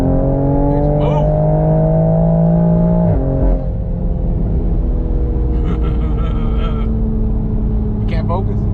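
A tuned Toyota Supra pulls hard in second gear, heard from inside the cabin as a loud engine drone with a sharp shift partway through. People talk over the engine.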